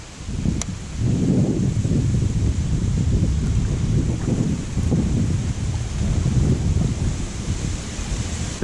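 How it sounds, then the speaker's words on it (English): Gusty wind buffets the microphone on open water during a kayak bass-fishing outing, a rough, steady rumble that swells and eases in waves with no talking. "It's gonna be a windy day, boys."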